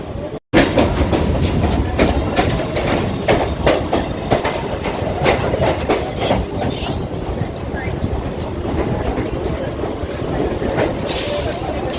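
A Sonarpur-Sealdah local train rumbles along the rails near Park Circus with rhythmic clickety-clack of wheels, loud and close, continuous throughout with occasional sharper metallic clanks.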